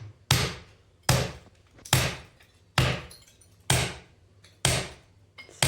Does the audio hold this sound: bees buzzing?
no